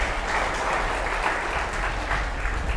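A church congregation applauds for Jesus during a Filipino worship service, steady dense clapping sustained throughout at moderate volume with no voices over it.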